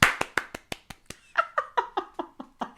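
A run of about a dozen sharp hand claps, close and fairly loud, falling in a quick steady rhythm with a short gap partway through and a slightly fuller, more resonant tone in the later claps.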